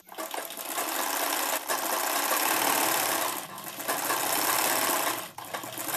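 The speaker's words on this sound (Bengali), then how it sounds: "পুরোটা সেলাই করে নিচ্ছি আমি ফ্রেন্ডস।" A sewing machine stitching the waistband of a two-panel petticoat, its fast continuous whirring running in long bursts with brief pauses between them, close and clear with no talking.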